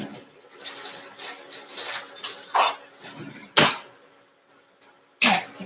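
A spoon clinks and scrapes against a bowl while stirring frozen banana topping, in several irregular bursts of close metallic knocks separated by short quiet gaps.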